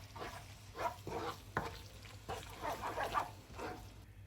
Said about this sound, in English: Mix the coconut cream into the spices, keeping the heat on low to medium.